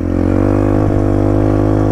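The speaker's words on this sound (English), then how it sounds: "As you hear the engine revving up and getting closer and louder" Dirt bike engine running loud and close with a steady droning hum and a slight rise in pitch, no voices over it.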